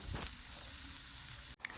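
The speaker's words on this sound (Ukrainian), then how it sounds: "Оладки перевертаю на інший бік та смажу до рум'яної скоринки." Steady broadband sizzling of pancake batter frying in hot oil in a pan, continuous and close, with a brief scrape near the end as the pancakes are turned.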